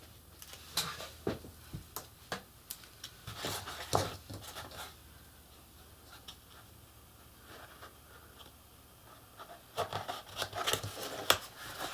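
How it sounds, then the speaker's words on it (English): Scissors cut a section from a paper strip for a slipcase, giving close, faint crisp snips and rustles in irregular bursts with quieter handling noise between them. "So I'm just going to cut off a section."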